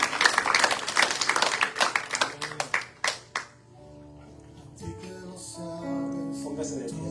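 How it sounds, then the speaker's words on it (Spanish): A church congregation claps for about three seconds, dense close applause that thins into scattered claps, then fades into soft music and quiet singing. "Denle un aplauso al Señor."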